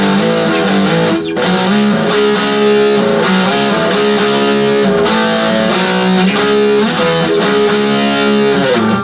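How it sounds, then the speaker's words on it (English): Electric guitar played through an amplifier with a smooth, saturated distortion tone, sustained chords and notes ringing loud and steady throughout with no talking. "This gives me a nice kind of a smooth kind of distortion"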